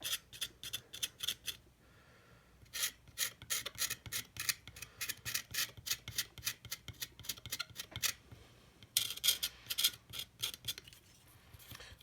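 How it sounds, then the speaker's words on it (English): Knife blade scraping solder mask off a copper trace on an N64 game cartridge circuit board, a series of quick, crisp rasping strokes in bursts, close and moderately loud, with short pauses between runs. "What you need is a knife, and you're gonna scrape away the solder mask along this trace."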